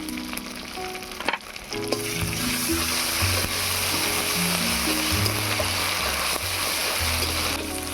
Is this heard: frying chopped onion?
yes